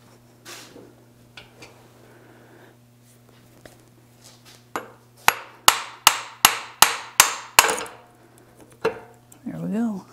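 A hammer taps a part through a joint on a square-body Chevy 4x4 front axle: about eight sharp, ringing metallic strikes in a quick steady rhythm, close by, with brief speech before and after.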